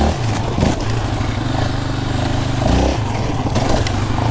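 A 2022 Raptor 700R SE quad engine running loud and close, a throbbing low idle with a few quick revs rising and falling, no talk over it.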